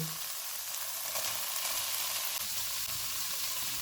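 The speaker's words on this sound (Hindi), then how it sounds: "चूल्हे को लो टू मीडियम कर देते हैं और इसको 2 से 3 मिनट तक भूनेंगे।" Onion frying in a pan over low to medium heat as filling for Kurkure beef momos, a steady close sizzle with faint stirring scrapes, no voices.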